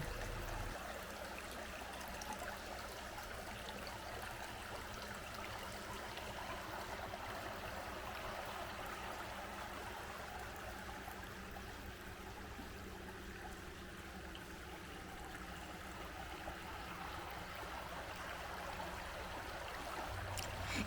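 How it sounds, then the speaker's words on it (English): A river popular for canoeing and tubing in southern Allegheny National Forest flows past riverside campsites, giving a steady, soft rushing and trickling with no voices. "We stopped for a few minutes to check out the river."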